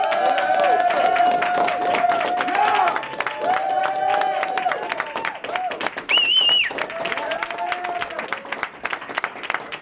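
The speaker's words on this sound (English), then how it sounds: "Please give a big round of applause for Brett Gallinger." Audience applause at a business meeting event, dense clapping from a crowd filling the room throughout, with a voice speaking over it and a brief whistle-like tone midway.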